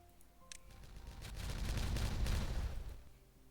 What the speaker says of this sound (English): I am going to detonate that section.